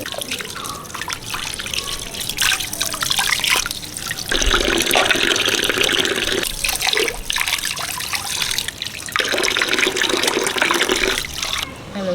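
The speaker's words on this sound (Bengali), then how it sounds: "লঙ্কা কেটে নিয়েছি এবার ধুয়ে নেব" Cut green chillies rinsed under a running tap, water trickling and splashing steadily into a sink with louder bursts as the stream hits the chillies, close and continuous without talk.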